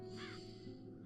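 Crows caw repeatedly in the video game The Dark Eye: Chains of Satinav, a clear harsh call standing out over a steady layer of game music and ambience.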